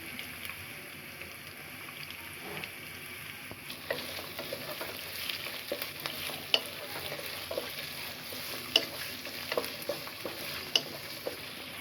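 Chopped potatoes fry in oil in a pan for chicken noodles, giving a steady, fairly quiet sizzle with a few small crackles and occasional scrapes, close by, with no talking.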